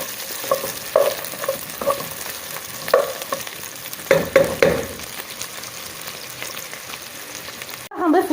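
Meat, onion and zucchini stir-frying together in a pot, with a quiet steady sizzle broken by several sharp scraping stirs of a utensil against the metal, then a louder clatter at the end.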